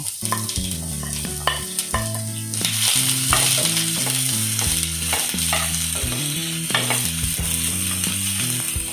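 Chopped onion fries in hot oil for a Kerala chickpea curry (kadala curry), giving a steady, close sizzle with stirring over a melodic background tune.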